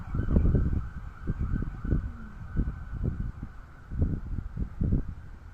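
Ambulance sirens passing on a street in Canada, a wailing tone riding over steady traffic and wind noise, moderately loud with no talk.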